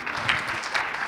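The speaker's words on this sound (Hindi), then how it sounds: "Ladies and gentlemen, can we put our hands together for the one and only" An audience applauds at a live stage event, a steady wash of clapping sustained through the short stretch, moderately loud with no talking over it.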